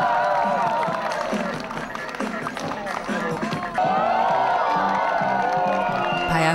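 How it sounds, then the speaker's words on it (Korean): A crowd watching a b-boy street dance freestyle cheers and whoops over loud, pulsing music, with scattered clapping mixed into the lively noise. "여러분들 프리스타일 할 때 박수 많이 쳐주시면"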